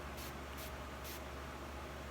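Aloe Rose Water sprayed onto a flat top makeup brush in three quick, close, hissing spritzes, each short and evenly spaced, over a faint quiet background with no talking.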